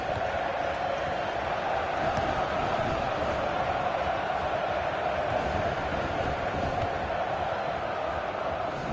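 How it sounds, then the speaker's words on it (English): Stadium crowd noise from the football video game FIFA 15, a steady dense roar of massed voices holding constant for the whole stretch with no breaks or swells. "And the crowd really enjoying it."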